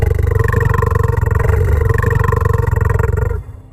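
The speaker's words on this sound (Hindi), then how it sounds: "तभी अचानक सामने से भारी दहाड़ सुनाई दी।" A black lion roars, loud and close, a deep rumbling growl sustained for over three seconds before it cuts off abruptly, with no other sounds.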